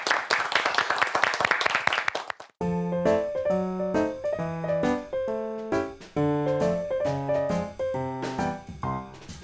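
An audience welcoming a Catholic priest on a TV senior-academy program gives a short burst of clapping. The applause stops abruptly and is followed by bright, melodic musical notes.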